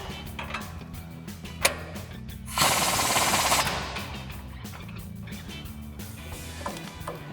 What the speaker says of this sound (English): use our 19 millimeter socket and swivel adapter again on our impact to tighten this down